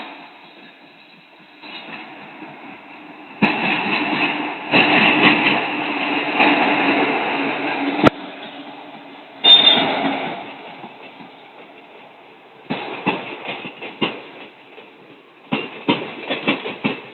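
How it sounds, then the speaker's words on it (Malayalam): An express train from Shoranur bound for Kannur passes nearby on an Indian railway line, a rumbling roar with rhythmic wheel clatter that rises in bursts as the coaches go by, fading and swelling over about seventeen seconds. "ഈ വരുന്ന വണ്ടി ഷൊർണൂർ ഭാഗത്ത് നിന്ന് വരുന്ന വണ്ടിയാണ്. ഇത് കണ്ണൂർ വരെ പോകുന്ന എക്സ്പ്രസ് ആണ്"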